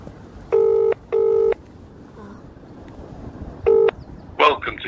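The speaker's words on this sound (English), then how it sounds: "I'm calling her again." Telephone keypad tones sound as a call is placed: three steady beeps, two close together and one after a pause, followed by a brief electronic blip, with faint background hiss.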